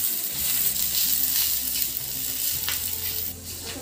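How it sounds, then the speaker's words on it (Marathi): Onion, grated coconut and garlic frying in a pan, a steady close sizzle with occasional stirring scrapes and clinks, no talking. "भरपूर चांगलं तळून घ्यायचं,"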